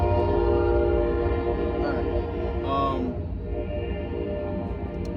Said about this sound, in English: This goddamn train.